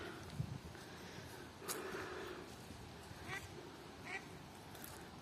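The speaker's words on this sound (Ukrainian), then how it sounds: "Качечки плавають." Ducks quack a few times at a moderate distance over soft outdoor ambience, with faint voices talking in the background.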